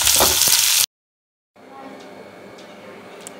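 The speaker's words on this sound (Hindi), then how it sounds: "ये हमें अच्छा फ्राई, ज़्यादा फ्राई नहीं करना है, कच्चे पक्के है ना, बस थोड़ा सा एक मिनट के लिए सा थोड़ा सा हम तलेंगे" Chopped vegetables for chicken manchurian sizzle loudly in hot oil for a brief burst, then the sound cuts to silence before a softer, steady frying hiss returns.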